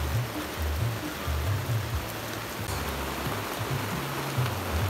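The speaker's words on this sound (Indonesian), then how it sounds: "Ate hujan melanda, bro." Steady rain falls outdoors at a fishing spot, a continuous wash of hiss with low rumbling underneath and no speech over it.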